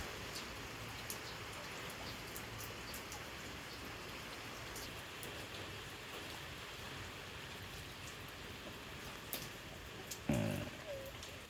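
Steady, soft rain falling on a surface in the rural Mekong Delta, Vietnam, a constant gentle patter with a few brief louder splashes near the end.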